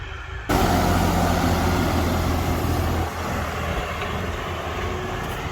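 A tractor pulling a cultivator runs steadily in a field, a loud, close, continuous low engine drone with broadband rumble that eases slightly in level partway through.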